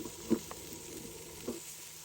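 Bacon-wrapped pork tenderloin cooking in a pan gives off a quiet, steady sizzle, with a couple of soft knocks from the pan and no voices.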